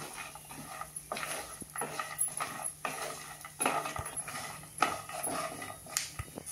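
Pumpkin and melon seeds roasting in ghee in a pan make a steady light crackle with irregular clinks and scrapes of stirring, fairly close and moderate in level, with no talk.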